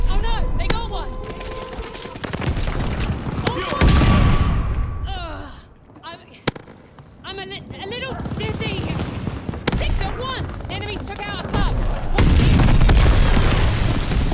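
Heavy gunfire and a booming rocket-propelled grenade blast in a Call of Duty Vanguard multiplayer match, loud and dense, with bursts of automatic fire and thudding impacts, and voices talking over the action.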